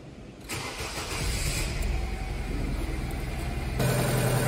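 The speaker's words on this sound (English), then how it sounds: "Okay, engine is running." A car engine cranks and catches after a brief quiet moment, then settles into a steady, fairly loud running idle with a slight rise near the end. No one speaks.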